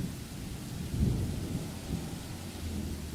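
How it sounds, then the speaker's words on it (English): A heavy rain downpour hisses steadily, with low rolling thunder rumbling beneath it and swelling briefly near the middle, and no voices. "I would hate to be caught unawares in this rain."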